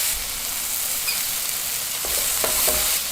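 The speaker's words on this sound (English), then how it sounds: "Now into a pan add some butter or margarine and add the onion and the garlic." Onion and garlic fry in butter in a pan, giving a steady, bright sizzle throughout with a few light scrapes and stirring clicks near the end, close and continuous, with no talking.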